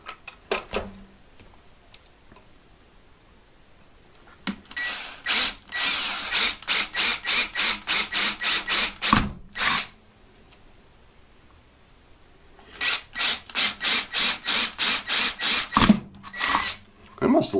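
A power drill bores through a plastic rifle stock in two long bursts, each with a steady rapid pulsing whir, loud and close, separated by quiet pauses with a few clicks and handling knocks.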